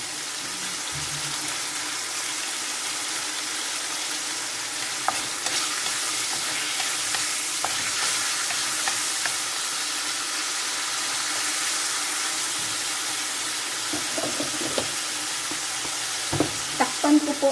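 Chayote sautéing in a pan for a ginisang sayote dish, with a steady, soft sizzle and the occasional scrape of stirring throughout, heard alone without talk.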